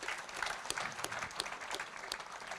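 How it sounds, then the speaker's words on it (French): Conference audience claps steadily throughout at a professional-training and disability event, a dense, even patter of many hands in a hall with no voices. "Je crois qu'on peut applaudir Madame Dartois."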